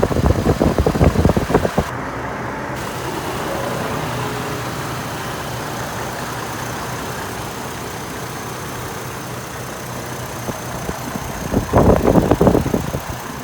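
A 2004 GMC Envoy SLT 4WD's 4.2-liter V6 idles with a steady, low rumble for several seconds, with brief louder mechanical bursts at the start and end.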